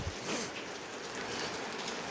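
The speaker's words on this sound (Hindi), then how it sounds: "बारिश बहुत ज़्यादा हो रही है, हद से भी ज़्यादा।" Very heavy rain pours down as a dense, steady hiss and patter, loud and close, holding an unbroken wash of sound throughout with no voices.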